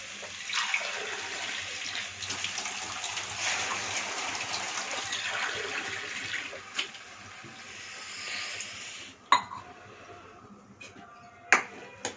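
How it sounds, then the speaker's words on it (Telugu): Water poured into a pan of fried broad bean (chikkudu kaya) curry, a steady splashing hiss lasting several seconds before fading, followed by a few sharp clinks of a utensil. "ఇప్పుడు ఇందులో వాటర్ పోసుకుందామండి."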